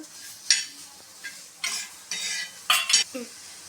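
Onions frying in oil in a pan for a keema curry, stirred in a few short bursts of metal spoon scraping over a soft sizzle, close by, with no speech.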